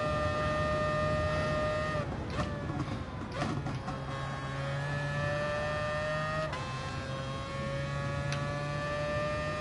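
Racing video game cars, including a Renault and a Supra, roar with steady high engine whine and tonal revving throughout, with brief shifts and overtaking swells in the middle, loud and continuous with no talking.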